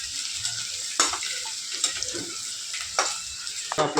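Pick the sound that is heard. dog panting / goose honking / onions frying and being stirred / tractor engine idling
onions frying and being stirred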